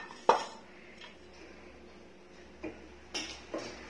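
A rubber washer is pulled from a metal pressure cooker lid, giving sparse, faint metallic clinks and taps separated by quiet gaps, with one sharper knock at the start.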